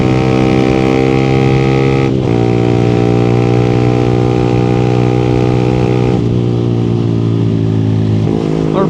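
Yamaha Sniper 155 motorcycle engine running through an aftermarket pipe, a loud close steady drone with a few brief shifts in pitch as the rider changes throttle, heard under wind while riding.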